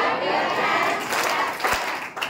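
A class of students claps hands along to a children's rhyme, a dense, continuous wash of many hands clapping at close range, with voices mixed in.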